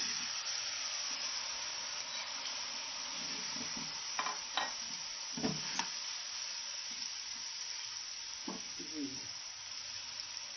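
Marinated chicken frying in oil in a pan over moderate heat, a steady faint hiss and sizzle with a few scattered utensil clinks and stirs toward the middle and end.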